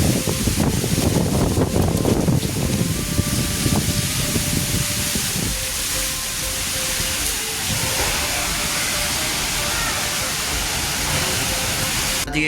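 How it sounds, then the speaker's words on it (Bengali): A storm wind blows outside during a power cut, a loud, continuous roaring rush that fills the whole span, with a stretch of indoor clatter and a faint tonal hum near the start. "কি ঝড় হচ্ছে বাইরে, কি হাওয়া দিচ্ছে"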